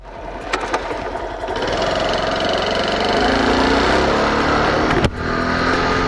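A blue 1985 Japanese-spec Honda 90 Cub motorcycle runs at close range, its small engine building from a light idle to a steady, louder drone that holds throughout, with a brief dip near the end.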